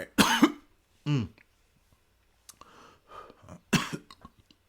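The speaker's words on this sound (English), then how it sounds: "got a cough and a hiccup." A person coughs several times in short, close bursts separated by pauses, with some breathing and throat sounds between them.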